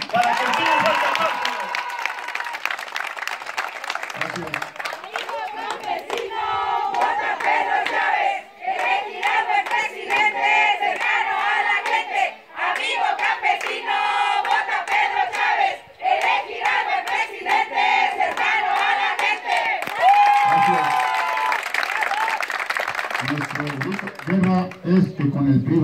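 A crowd welcomes PRI candidates at a campaign rally in Agua Tibia de Ayala, a dense mass of clapping and cheering that runs on for about half a minute with shouted voices and a loudspeaker voice coming through over it.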